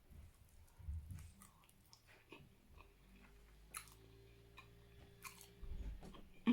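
Close, soft chewing and biting of food during a home meal, with irregular wet crunches and mouth sounds spread across the clip, fairly quiet with a faint background hum.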